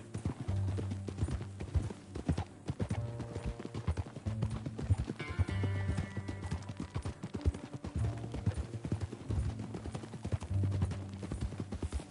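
Steady clip-clop of horse hooves trotting along in the video game Red Dead Redemption 2, continuous and fairly loud, with a brief whinny and some background movement.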